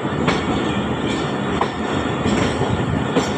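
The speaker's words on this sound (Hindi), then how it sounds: "45 डेज़ के बाद वेलकम करने के लिए लोग खड़े हैं रावलपिंडी रेलवे स्टेशन पे जाफर एक्सप्रेस को" Jaffar Express train at Rawalpindi railway station, a loud continuous rumble of railcars rolling along the platform with wheel clatter and faint metallic squeals, close and steady throughout.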